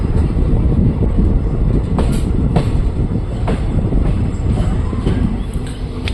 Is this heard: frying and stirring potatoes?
no